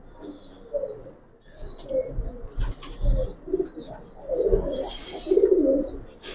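Pigeons coo again and again at close range, soft throaty calls in bursts amid chirps and brief wing flaps, with faint background voices.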